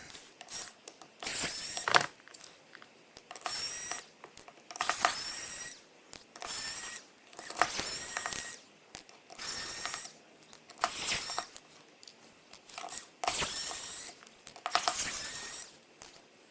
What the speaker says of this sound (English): Then we got all these fancy screws we got to take out. So grab our handy dandy screwdriver